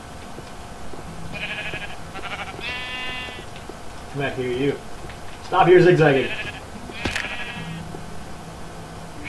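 Blocky sheep bleat repeatedly in Minecraft, several short wavering cries close by, with someone talking over and around them.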